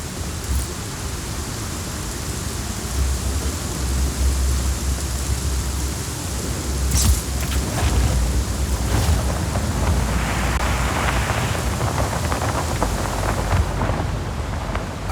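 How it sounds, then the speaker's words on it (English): Steady storm rain pours in the game Just Cause 4, with deep thunder rumbles rolling underneath and a sharper crack near seven seconds, continuous and enveloping with no talk. "Storm's rolling in."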